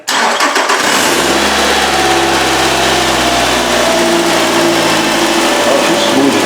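A Nissan Altima 2.5 cranks briefly and catches, then settles into a loud, steady idle close by, its low engine rumble continuous with no skipping audible to the end.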